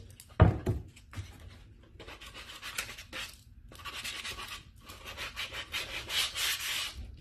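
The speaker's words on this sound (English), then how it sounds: "You could put a little beat up edge look by just sanding the edges down a little bit." Close, rhythmic scratchy rubbing of sandpaper on wood, in repeated short strokes after a single knock, fairly quiet and steady with no talking.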